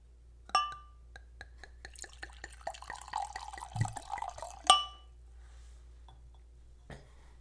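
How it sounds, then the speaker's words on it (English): Liquid is poured into a glass amid light clinks and drips, a quick run of small splashy taps building to a sharper clink, then a few faint drips trailing off; close and fairly quiet, with no talk. "ASMR pour."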